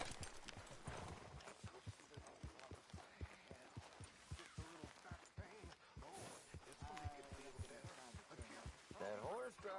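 Horse hooves clip-clopping on the ground in Red Dead Redemption 2, a steady walking rhythm of hollow knocks close up, with game voices talking over parts of it.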